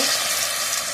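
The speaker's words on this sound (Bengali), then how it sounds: "এইভাবে পকোড়াগুলো সব ভেজে নেবো" Potato pakoras deep-fry in hot oil, a dense steady sizzle, loud and close, heard briefly and alone.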